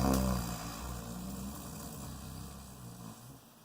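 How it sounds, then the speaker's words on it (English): Snoring breath drawn in slowly through the nostrils as a breathing exercise, a steady rough rasp that starts a little louder and then holds on, close and alone. "Let's try that again, the nice snoring breath."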